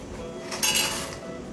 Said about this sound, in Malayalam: അപ്പൊ നമുക്ക് ഇതിലേക്ക് പാസ്ത ഇടാം.